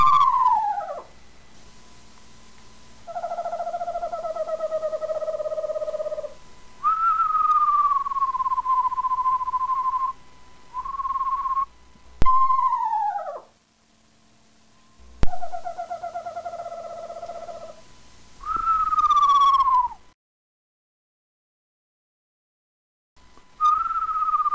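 Owl calls imitated by a voice and played from a tape, a series of descending whistled hoots in separate bursts with pauses between them, clear and close.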